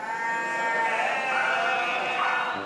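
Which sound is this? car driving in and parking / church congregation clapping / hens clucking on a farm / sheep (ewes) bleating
sheep (ewes) bleating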